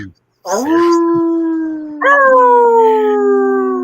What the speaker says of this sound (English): if you hear a growling or a howl, you better run